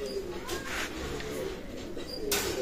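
Pakistani Teddy pigeons, kept as a breeding pair in a loft, coo softly in low, soft calls over a steady background hiss.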